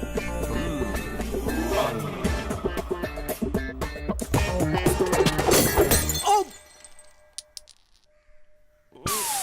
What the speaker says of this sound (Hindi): भैया कॉफी का कप टूट गया